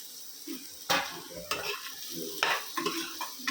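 Potatoes tumble into frying masala in a pan, a close crackling sizzle broken by scraping stirs and a few clattering pan knocks, with no talking.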